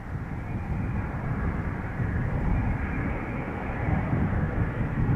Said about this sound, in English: Delta Airlines arriving from Seattle, Washington, flight 144. It's an A330neo